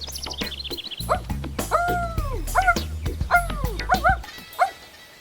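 Collie dog barking and yipping in a children's story, several short bright barks spaced irregularly over background music.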